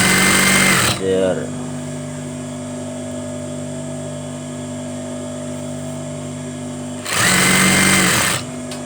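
A sewing machine stitching a curtain, with loud bursts of rapid motor whirring at the start and near the end and a steady mechanical hum in between.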